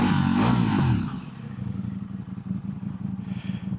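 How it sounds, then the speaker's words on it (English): A 2026 Ducati Panigale V4 with an Akrapovic exhaust roars in a loud rev at the start, then drops back to a lower, rumbling idle with light mechanical clatter running on to the end. "It sounds so good too with the acro exhaust."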